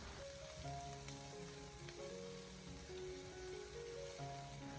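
Chopped aromatics stir-fried in hot oil in a wok over low heat, giving a continuous soft sizzle that runs evenly throughout, with faint tonal sounds in the background.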